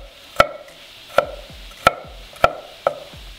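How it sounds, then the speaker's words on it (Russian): Five sharp knife chops on a cutting board, finely cutting peeled garlic, evenly spaced and close up, with quiet pauses between each strike. "я начистил чеснок и нарезаем"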